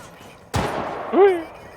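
A single sharp gunshot fired at enemies in the video game Syndicate bursts out and decays quickly, followed moments later by a short voiced cry.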